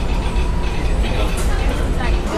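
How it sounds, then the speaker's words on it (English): A Disneyland train rumbles steadily, a dense low roar with faint clatter close by, and voices murmur underneath. "So now we're gonna get on the train."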